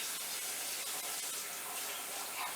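Warm water runs from a kitchen tap in a steady, close-up hissing gush that continues evenly throughout.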